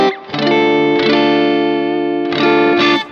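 An electric guitar played through a Kemper amp profile with light overdrive breakup rings out in sustained chords, each held about a second or two before the next strum, alone and up close.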